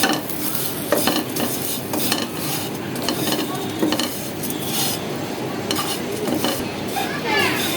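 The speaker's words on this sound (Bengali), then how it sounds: "খুবই কম আঁচে ভেজে নিব।" Fine vermicelli (semai) frying with cashews and raisins over low heat in a pan, a steady soft sizzle under repeated scraping and stirring strokes of a spoon against metal, close and continuous.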